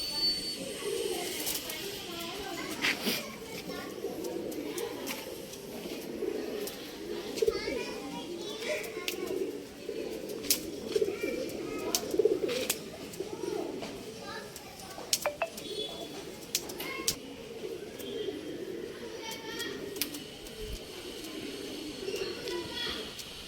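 Pet pigeons of an old-line breed coo softly amid a steady busy background of birds and distant children's voices, with someone talking intermittently over it.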